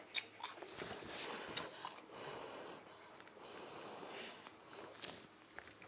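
Crisp fried chicken skin being bitten and chewed up close, with quiet, irregular crunches and wet chewing, no talk.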